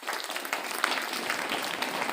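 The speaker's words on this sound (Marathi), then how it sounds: "त्या दोघांच्यासाठी टाळ्या वाजवा." Schoolchildren and staff at a school sports-week event applaud two cross-country runners, a quiet, distant, even patter of many hands clapping that holds steady throughout the short burst.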